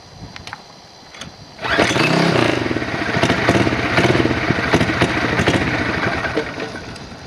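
A KT100 kart engine is cranked and catches after a few soft clatters, then bursts into a loud, raspy two-stroke run that holds at a rough, steady idle nearby.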